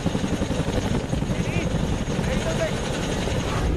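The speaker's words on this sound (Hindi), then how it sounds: "अब हेलीकॉप्टर टेक ऑफ करने की तैयारी कर रहा है।" An Indian Air Force Chinook transport helicopter readies for takeoff at a forward airbase, its engines and rotors making a loud, steady, close roar with a rhythmic throbbing beat.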